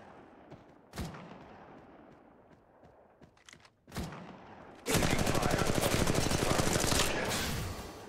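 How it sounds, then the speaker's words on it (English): Enemy gunfire in a battle royale game: two sharp separate shots with quieter scattered pops between, then a long loud burst of rapid automatic fire lasting about three seconds before it eases off. "The enemies are shooting at me."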